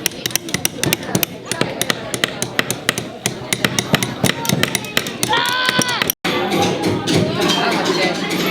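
Rapid sharp metallic taps from a hammer striking stone repeat in a steady rhythm, close by, with a brief pause near the end.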